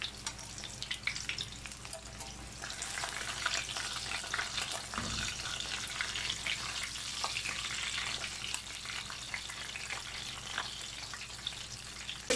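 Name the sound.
freshly caught fish frying in a pan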